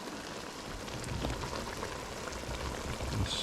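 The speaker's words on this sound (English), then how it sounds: "That's a rolling boil." Beef stock at a rolling boil in a pot, a soft continuous bubbling and gurgling at close range, with no talk.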